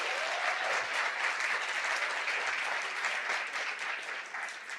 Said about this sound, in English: let's give another round of applause for everyone who was part of this evening.